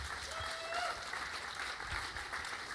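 A crowd at the Calgary Investment Summit applauds the event sponsors with a soft, continuous wash of clapping, heard faintly at a distance, with a thin tonal whine passing briefly through.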